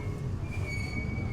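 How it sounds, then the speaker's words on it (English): A tourist train at a Florida park, Gatorland in Orlando, rolling along with a sustained high metallic wheel squeal over a low rumble of the cars, close and steady throughout, no voices. "That was a train ride."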